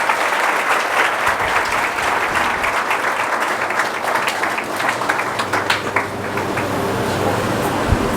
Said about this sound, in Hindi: एक बार जोरदार ताली लगा दीजिए।